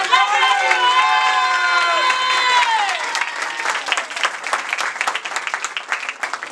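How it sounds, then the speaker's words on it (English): Audience at a New Year celebration gathering in India applauding and cheering loudly, a dense crowd of clapping with shouted voices and whoops rising over it. "So clap."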